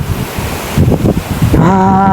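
Wind gusts across an open Thai rural field, a steady loud rushing that swells and buffets the microphone, with a faint tonal hum rising near the end.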